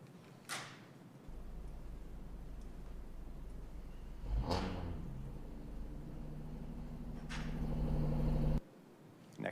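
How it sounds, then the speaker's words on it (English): A neighborhood car with its muffler removed, deliberately loud, roars past in a steady low rumble with several sharp revving bursts, then cuts off abruptly near the end. "This is a car, one of several intentionally noisy cars in my neighborhood."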